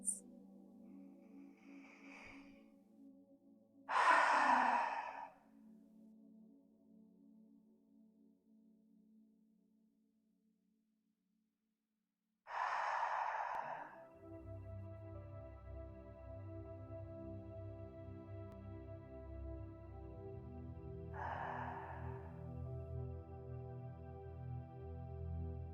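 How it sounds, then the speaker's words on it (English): Slow audible exhales through the open mouth during ocean breathing in a quiet yoga practice, soft breathy whispered-ah sounds rising and fading at long intervals, with low background hum underneath. "Exhale out audibly through the mouth. Let the sound of your exhale be similar to a quiet whispered ah."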